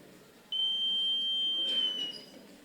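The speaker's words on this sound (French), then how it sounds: "alors il diminue la résistance et laisse passer le courant et le buzzer sonne." A buzzer in a students' Arduino robotics project sounds a steady, piercing single tone that starts abruptly, holds for about a second and a half against faint room noise, then cuts off.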